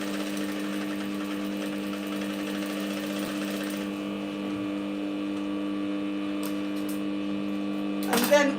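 A sewing machine stitching fabric for a puffy-sleeved top, giving a steady, close mechanical hum with a droning motor tone throughout, then a brief clatter at the very end.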